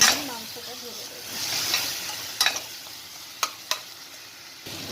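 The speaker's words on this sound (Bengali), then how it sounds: "মশলাটা আমি এতে ঢেলে দিলাম, আর এটা একটু নাড়াচাড়া করে আমি মাংসটা ঢেলে দেবো" Ground spices frying in oil in a pot for mutton curry, stirred with a spoon: a soft steady sizzle and hiss, punctuated by a few sharp scraping clinks of the utensil against the pot.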